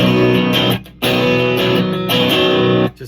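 Fender Jaguar baritone guitar, Japanese-made, played with its strangle circuit engaged for a thinner tone: sustained, distorted chords ring loud and close, with two short breaks between strums and no talking.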